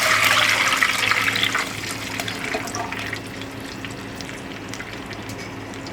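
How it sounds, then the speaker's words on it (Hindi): Water is poured into a pan of hot oil with crackled cumin seeds, rushing loudly for a second or so before settling into a softer, steady sizzle and hiss. "ज़ीरा जो है वो कड़कड़ा हो गया है, इसमें हम अब डालते हैं पानी।"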